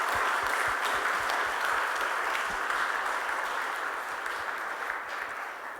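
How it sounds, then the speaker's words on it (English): An audience at the Jaipur Literature Festival applauds Professor Diarmaid MacCulloch, a sustained round of clapping from a large crowd that stays steady and full before easing slightly toward the end. "So I think we did a big round of applause for Professor MacCulloch."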